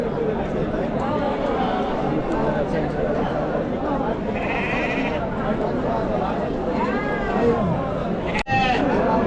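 Many sheep bleat over one another in a noisy crowd at a large sheep and goat market in Chakan, with people chattering close by and a sharp knock near the end.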